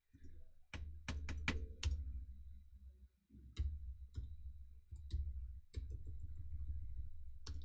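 Clicky keystrokes on a computer keyboard, tapped in short irregular bursts and single presses at close range, with brief pauses between groups and no talking over them.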